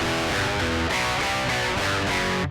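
Distorted electric guitar from a Joyo Preamp House pedal with the impulse response switched off, sounding harsh and fizzy as a short run of steady chords rings out loudly on its own.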